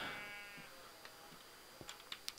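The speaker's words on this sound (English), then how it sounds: "There's a sheep! I can see a sheep!" A sheep in the Minecraft video game gives a short, faint bleat at the start, followed by quiet scattered clicks and taps.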